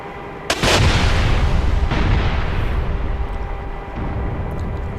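Ka-50 attack helicopter in DCS World launching rockets: a sharp loud burst followed by a sustained roaring rush that slowly decays, with a second thump, over continuous engine and rotor rumble.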